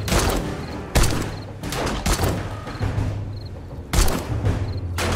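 Gunfire in the survival zombie game 7 Days to Die, played during a blood moon horde night: loud shots and booming blasts go off at about 0 s, 1 s, 2 s and 4 s, with steady rumbling fusillade and noise between them.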